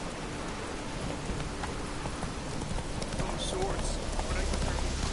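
A horse gallops in The Witcher 3, its hooves giving a continuous rhythmic clatter under a steady wash of rain, with a voice speaking over it.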